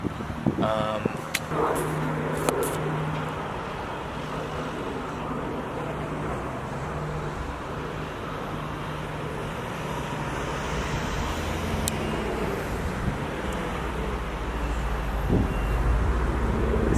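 Street traffic in a small European town, with cars rumbling and passing steadily and a few sharp knocks. Someone talks over the noise for most of the time.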